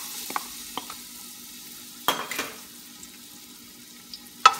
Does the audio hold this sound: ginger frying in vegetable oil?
yes